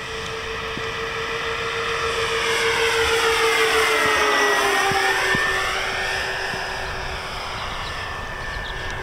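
A Motion RC 63-inch P-38 model airplane makes a fast pass, its twin electric motors whining loudly and sweeping down in pitch as it races by overhead, with a faint sense of distance at either end.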